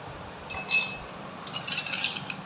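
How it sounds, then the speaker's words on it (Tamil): Ice cubes drop into a tea glass with a couple of bright, light clinks and a faint rattle, close and quiet, with no talking. "இதுலயுமே ஐஸ் கட்டி போட்டுக்கலாம்"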